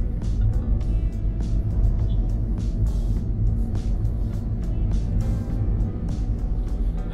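Wuling Cortez 1.8 car in sport mode, its engine a continuous deep rumble from inside the cabin while driving, steady and fairly loud with faint ticks and road noise on top.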